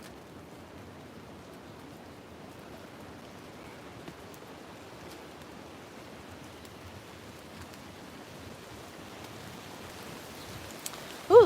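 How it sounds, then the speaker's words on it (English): Rain falls steadily on a hiking trail in Hawaii as a soft, even hiss that runs through the whole stretch, with a brief louder bump right at the end. "Ooh, a little bit more rain too."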